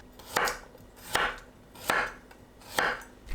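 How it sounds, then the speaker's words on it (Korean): A knife slices garlic cloves on a cutting board in four crisp, evenly spaced chops, close and clear, with no talking. "마늘을 편 썰어주세요."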